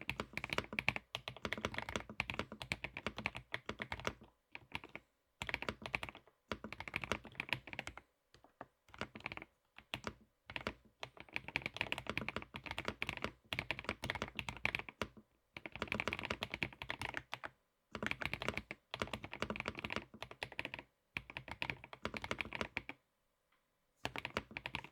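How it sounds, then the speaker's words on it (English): Typing on a Tecware Spectre 96 mechanical keyboard during a typing test, rapid clattering keystrokes in quick bursts broken by short pauses, close and clear with no speech. "Let's go ahead and get a typing test done here."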